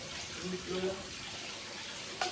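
Water pouring from a Jetmatic hand pump into a drum at a well at night, a steady splashing flow with soft murmured voices beneath it and a sharp knock near the end.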